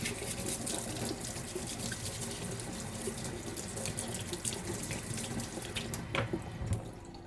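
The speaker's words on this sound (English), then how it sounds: "And then I need to get the big spoon. I'll just wash that too." Tap water running into a sink as a big spoon is rinsed, a steady close splashing rush with brief clatters near the end.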